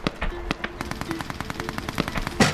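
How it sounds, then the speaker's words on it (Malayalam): Rapid machine-gun fire outside in a war film, a steady stream of sharp, evenly spaced shots with a few louder cracks, fairly loud and somewhat distant-sounding. "അതിനിടയിൽ പുറത്ത് വെടിയൊച്ചകൾ കേൾക്കുന്നു."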